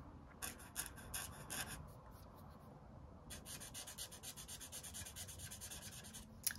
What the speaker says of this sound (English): This one, this nib is quite scratchy, I think.